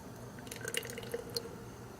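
Runny fluid acrylic paint mixed with silicone is poured from a cup, giving soft, faint trickling and dripping sounds in a quiet room.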